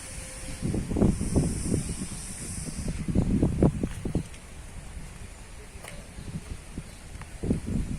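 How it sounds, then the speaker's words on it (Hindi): Wind blows through the trees around the Sampurnanand Sanskrit University campus outdoors, arriving as uneven gusty bursts of low buffeting and rustle with quieter lulls between them. "क्या सुनहरी हवा चल रही है पेड़ों के कारण"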